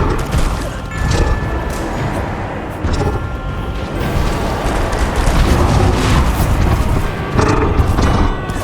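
Confringo blasting spells explode during Hogwarts Legacy combat, a loud, dense wash of booms and crashes that keeps rolling for the whole stretch, with several sharper bursts layered over constant battle noise.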